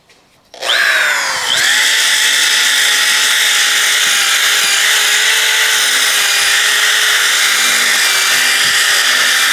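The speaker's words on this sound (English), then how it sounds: "So watch as I sand this bench." A power sander works over an old wooden bench with a loud, steady high-pitched whine. It starts abruptly after a brief quiet moment and then runs continuously at close range with no voices.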